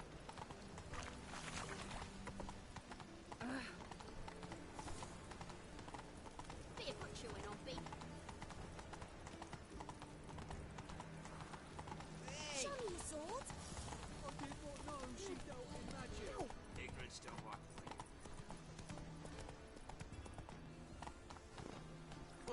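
In The Witcher 3, a horse's hooves clip-clop in a fast, continuous gallop rhythm alongside game music, with a voice talking over the hoofbeats.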